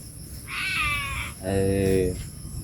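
A cat meows twice in close succession, each meow a drawn-out, clearly pitched cry, heard fairly close and fairly loud.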